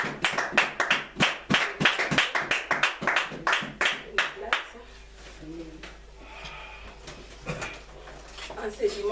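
A church congregation claps in a steady, fast rhythm, loud and close, for about four and a half seconds before the clapping fades into scattered voices and room noise.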